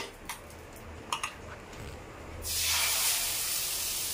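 Semiya egg dosa batter hits a hot pan, starting a sudden loud, steady hiss of sizzling after a few quiet clicks and taps.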